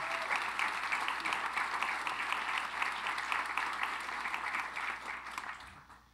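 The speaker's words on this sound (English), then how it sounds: "Let's give them a round of applause." An audience at an evening event celebrating Medgar and Myrlie Evers gives sustained, dense applause that holds steady and then tapers off toward the end.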